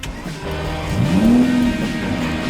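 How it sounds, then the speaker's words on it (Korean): A car engine is cranked and catches, then its tone rises into a rising whine and settles into a loud, close idle hum. "경이랑 시동 걸어봐."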